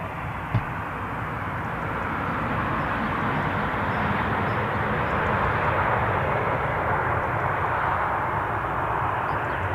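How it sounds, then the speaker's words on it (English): A delayed jet airliner bound for Lanzarote departs Newcastle International Airport, its engines giving a steady broad roar that swells slightly over the seconds, heard alone at a distance. "here is our delayed Lanzarote flight"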